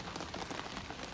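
Rain falls steadily and softly at a crystal mine, a faint, even patter of drops on the ground with no voices.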